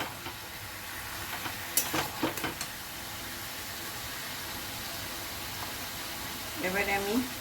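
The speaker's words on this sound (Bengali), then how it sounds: "লাউটা আমি কিছুক্ষণ নাড়াচাড়া করেছি। এবারে পরিমাণ মতো নুন দেব।" Bottle gourd with salt frying in a pan, a steady sizzle broken by scraping stirring strokes and a few clatters, with a brief voice near the end.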